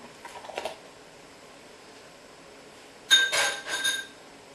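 A utensil stirs a sauce with crème fraîche in a pan, giving a quick cluster of faint metallic clinks, then after a quiet gap a louder run of sharp clinks and scrapes close by.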